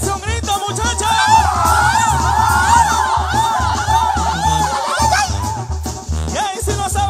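A live concert audience shouts and whoops at a Mexican regional music show in Sonora. Yells rise over loud band music with prominent brass and a steady bass beat throughout.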